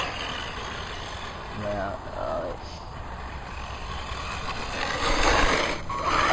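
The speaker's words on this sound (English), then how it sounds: "So that Technigold motor has just held up so well over the years." A vintage Tamiya Porsche 959 RC car with a Technigold motor whirs and rattles mechanically, rising louder toward the end, as people talk over it.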